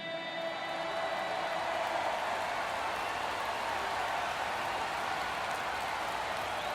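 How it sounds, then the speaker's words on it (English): A packed stadium crowd in MLB The Show 24 roars continuously at World Series time, a dense, steady wash of cheering noise with no break. "This crowd is ready as we get set for the World Series."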